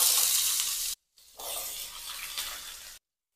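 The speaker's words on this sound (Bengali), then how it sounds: "এবারে আলুটাকে এই তেলের মধ্যে দিয়ে ভেজে নেব।" Potato pieces frying in hot oil in a home kitchen, a bright steady sizzling hiss in two bursts separated by abrupt silent gaps, loud and close with no talking.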